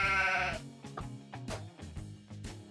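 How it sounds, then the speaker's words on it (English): A sheep bleats once in a long wavering cry on a toy farm, followed by a few short, softer plucked notes of background music. "There's a sheep."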